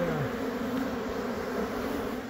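A dense, steady buzzing of many honeybees at an old hive inside a wall fills the space, close and continuous with no pauses.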